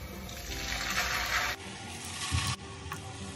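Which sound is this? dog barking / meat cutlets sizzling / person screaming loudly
meat cutlets sizzling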